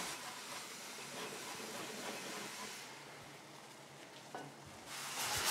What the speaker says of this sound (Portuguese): E vamos colocar o vinho branco com as chalotas e com um dente de alho também picado